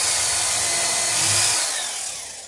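A loud, high-pitched whine of a drill boring into the wooden stem of a boat, steady and close, easing off toward the end.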